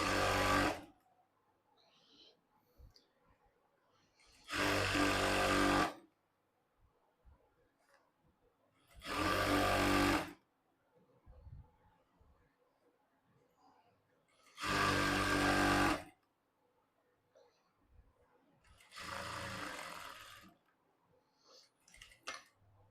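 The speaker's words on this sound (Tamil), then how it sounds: "இதோ நான் போடுற பாருங்க, சென்டர் தையல் போடும்போது ஃப்ரண்ட் சைடு இப்படி இழுத்து பிடிக்கணும்" A sewing machine stitching the center seam of a child's jumpsuit, running in five separate bursts of steady whirring stitching about a second long, with quiet handling sounds between them.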